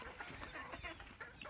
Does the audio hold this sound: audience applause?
no